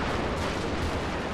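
Distant Gatling guns firing in a strategy video game, a steady rumbling stream of massed shots with no clear gaps.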